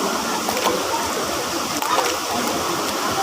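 Water rushes and splashes steadily in a stream or small waterfall, a loud broadband flow heard close by, with voices faintly present.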